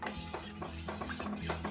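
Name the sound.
stirring the healthy drink in a pan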